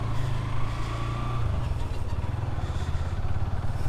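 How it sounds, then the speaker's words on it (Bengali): A new motorcycle in its break-in period accelerates gently, its engine a steady, close mid-pitched drone that rises slightly in pace without any sharp revving. "অ্যাক্সেলারেশনটা খুব আস্তে আস্তে দিয়ে আমি গাড়ির গতিটা বাড়াচ্ছি"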